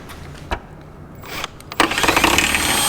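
A drill bit bores through the inside panel of a Ford Crown Victoria / Grand Marquis trunk, a close, rising whir that grows louder and grinds steadily once it bites, after a few sharp knocks.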